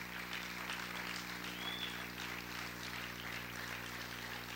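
Faint, distant applause from a church congregation, a continuous wash of many hands clapping over a steady hum, with no talk.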